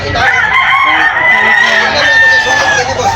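A rooster crows loudly in a long, drawn-out call lasting nearly the whole clip, with other fowl noise and a busy rooster-market background around it in Tabunok, Talisay, Cebu.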